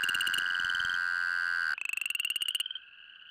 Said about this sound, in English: During the mating season, chorus frogs congregate by the hundreds